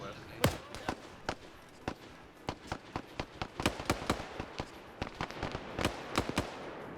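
Video-game gunfire from a machine gun bunker: sharp, loud cracks arrive one at a time at irregular intervals, with several closer together near the middle, over a low background.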